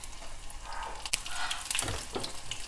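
Crushed garlic cloves fry in a pan, making a soft, low sizzle with scattered pops and a few sharp crackles and clicks, fairly quiet and close.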